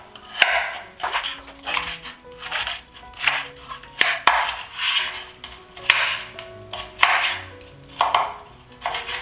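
A knife chops vegetables on a cutting board with steady, crisp strikes, roughly one or two per second, close and clear with a few brighter clacks against the board and no talking.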